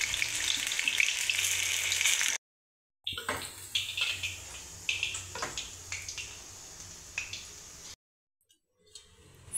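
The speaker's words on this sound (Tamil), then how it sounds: "ஃப்ரை பண்ணி எடுத்தாச்சுங்க" Chicken kebab pieces fry in hot oil with a steady bright sizzle, broken by two abrupt silent gaps, with scattered crackles and pops; no one speaks.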